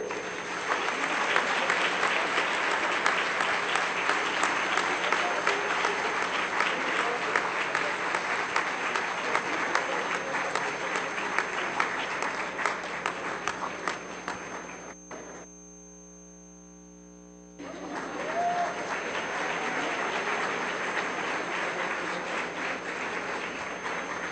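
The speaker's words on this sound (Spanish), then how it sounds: "Damos un fuerte aplauso, por favor." Sustained, dense audience applause at a university conference fills the room for about fifteen seconds, drops out briefly, then resumes just as full and steady until the end.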